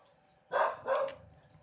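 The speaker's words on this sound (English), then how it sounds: "next door's taking their dog out, so my little dog has to have a bark" A small dog barks twice in quick succession indoors, fairly close and moderately loud, set against a quiet room with a faint background hum.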